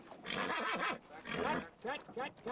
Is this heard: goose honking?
no